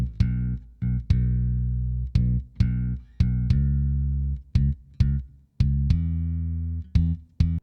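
A punchy low kick drum and deep bass guitar notes in an irregular groove, mixed with Pultec EQs, each hit sharp and then sustaining, loud and close.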